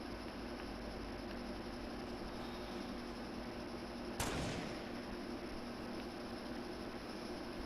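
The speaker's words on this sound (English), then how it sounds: "Somebody got a big rocket cannon or something." A big rocket cannon fires once in Fortnite, a sudden sharp blast with a short rumbling tail that rises over a steady background of game ambience and low hum.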